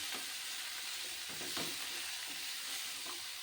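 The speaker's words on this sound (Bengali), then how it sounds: "এবার হালকা করে ভেজে নেব" Bottle gourd pieces lightly frying in a pan, a faint, even hiss of sizzling oil with a few soft stirring sounds in the middle.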